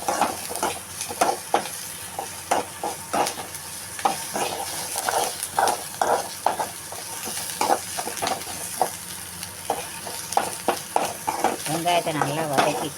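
Onion being sautéed in a pan for kuzhi paniyaram made from dosa batter, with repeated rhythmic spatula stirs and scrapes over a continuous close sizzle, no speech.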